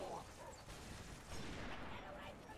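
Gunfire in Halo 3: ODST on the ONI Alpha Site level: a dense, muffled volley of rapid shots blending into a continuous rumbling clatter, heard faint and distant.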